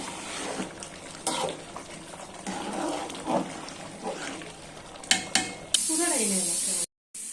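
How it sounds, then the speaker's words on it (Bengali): Spicy beef frying in a pot while being stirred, a steady close sizzle with scraping stir strokes and a few sharp clatters near the end. "একটু নেড়ে দিচ্ছি।"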